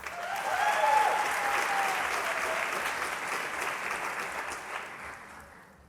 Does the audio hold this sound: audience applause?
yes